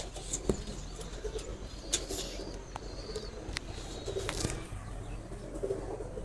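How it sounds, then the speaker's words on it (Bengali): Laldoma and Kaldoma pigeons cooing softly in a loft, low repeated coos with a few sharp clicks and wing flutters, faint and close. "এই কবুতরটি দোমা এইটা হলো কাল দোমা"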